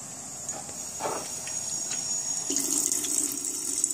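Steady rush of water running from a water ionizer, with a bright hiss, growing slightly fuller partway through, close and continuous with no voices.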